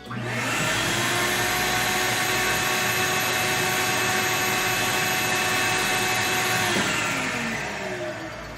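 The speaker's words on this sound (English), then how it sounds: "I'm going to run the vacuum for 10 seconds and clean up that dust from sanding" A vacuum cleaner runs for several seconds sucking up sanding dust on a guitar-making bench, a loud, steady whining roar that starts abruptly, holds, then winds down in pitch at the end.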